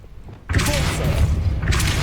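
A Depulso force spell cast in Hogwarts Legacy lands as a sudden deep thump with rumbling mechanical clatter, loud and close, after a brief quiet lead-in.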